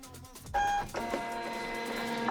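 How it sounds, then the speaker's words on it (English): A Zebra ZP450 label printer runs as it prints a shipping label, a brief mechanical start followed by a steady buzzing whir of the feed, close by with no talking. "So we'll go ahead and print the label."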